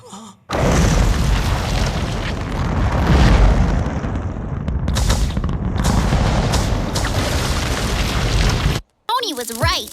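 A loud, sustained roaring blast of a rocket lifting off in a video game cutscene, a broad rumbling boom that holds for about eight seconds before cutting out abruptly, followed by a brief snatch of voice.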